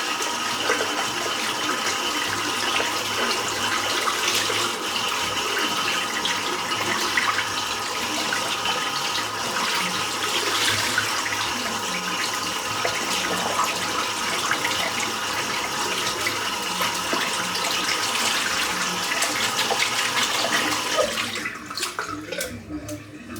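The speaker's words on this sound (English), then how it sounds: "Just going to rinse out this the brush and let the weepers weep again." Tap water runs steadily to rinse out a shaving brush after a wet shave, a continuous close rush of water that cuts off near the end.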